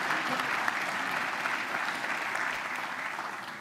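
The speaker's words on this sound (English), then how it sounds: "Let's give her a round of applause." Steady applause from a crowd at a college football coaching announcement at MTSU, even and sustained throughout, moderately distant with no pauses.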